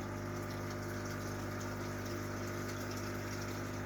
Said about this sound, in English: This is running off a big sump filter